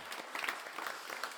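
A church congregation at a Salvation Army Sunday service applauds steadily, a soft wash of many clapping hands heard from a little distance.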